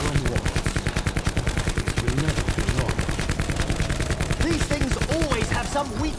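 Rapid automatic gunfire in a shooter video game, loud and close, a dense unbroken train of shots with a few brief electronic chirps near the end.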